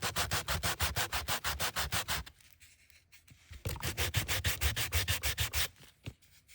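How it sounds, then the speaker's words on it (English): A small Dollar Tree wooden sign is sanded by hand in quick back-and-forth rasping strokes, a rhythmic burst of rubbing, a brief pause, then another run of strokes, close and loud. "This is going to need a little bit of a sanding."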